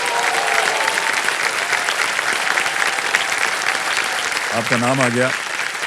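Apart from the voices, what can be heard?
studio audience applause on KBC game show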